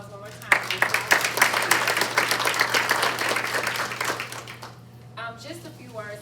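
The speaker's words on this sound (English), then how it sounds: "let's give everybody that spoke this morning a round of applause one more time" Audience applause at a community college food pantry ribbon cutting, a dense burst of many hands clapping that swells quickly and tapers over several seconds, with a steady hum underneath and a voice resuming near the end.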